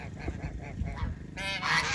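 A flock of farm geese honks repeatedly and excitedly nearby, with overlapping calls building into a louder cluster toward the end.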